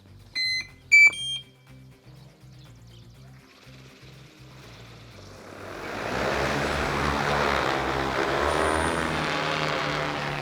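An XAG P100 or DJI T40 agricultural spraying drone sounds a few short electronic beeps, then its rotors roar up into a loud, steady whir that holds as it flies over a field.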